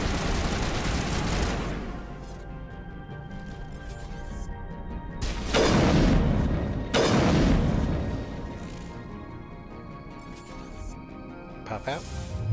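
Gunfire in the video game Mass Effect, bursts of shots and heavy impacts crashing in waves, with loud booming volleys mixed with game music and effects.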